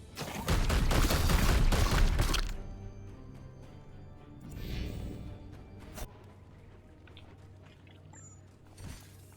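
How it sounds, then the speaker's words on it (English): Weapons open fire in Warhammer 40000: Chaos Gate, a loud dense burst of rapid shots for about two seconds, then quieter scattered blasts and single sharp cracks over a low rumbling backdrop. "Firing now. Opening fire."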